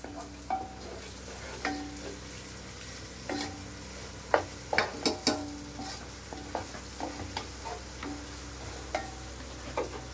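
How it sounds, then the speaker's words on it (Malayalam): Ginger, garlic and green chilli sautéing in rice bran oil, a gentle sizzle beneath repeated sharp taps and scrapes of a spatula against the pan, clustered in a busy burst midway. "ഇപ്പം ജിഞ്ചറും ഗാർലിക്കും വഴന്നുകൊണ്ടിരിക്കുന്നു"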